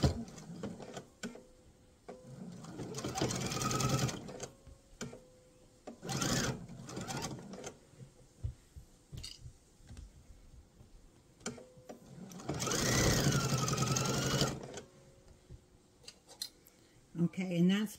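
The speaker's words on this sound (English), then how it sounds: "So I'm going to sew all the way up to the edge." Sewing machine stitching a mesh tote bag, whirring in several bursts of a few seconds each, separated by quieter gaps with small clicks and handling sounds, while someone talks between runs.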